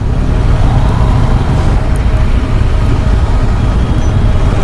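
Dense road traffic in a Mumbai jam, a steady loud broadband rumble of idling and creeping cars, buses and motorbikes close by, with no pauses and no talk.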